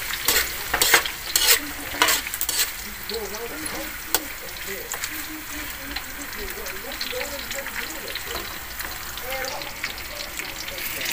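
Marinated beef for bistek tagalog frying in a pan, a steady close sizzle with bursts of stirring and scraping near the start, continuing unbroken and fairly loud throughout.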